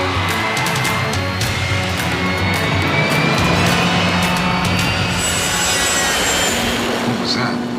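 A very fast car roars past on a road, a loud sustained rushing whoosh with rising and falling whine across the whole span, no voices.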